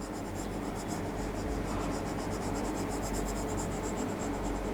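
Steady scrubbing of an eraser wiping part of a drawing off a board during a maths lesson, a continuous soft rubbing texture that stays at a constant low level throughout with no talk over it.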